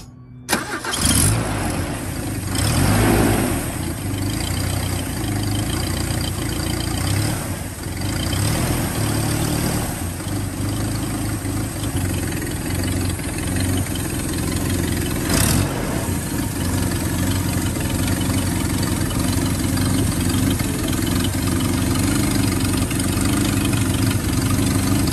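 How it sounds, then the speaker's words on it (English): A 1976 Chinook camper's Toyota 2.2-liter 20R four-cylinder cranks and catches, then settles into a steady, close, rumbling idle that runs uninterrupted for over twenty seconds. "let's hear the startup and engine running."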